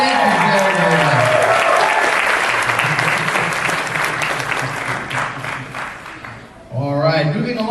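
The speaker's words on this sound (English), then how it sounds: "Can we get a round of applause for Levi and Lon?" An audience at a fan convention costume contest gives a round of applause, loud sustained clapping that fades out before a voice talks over the end.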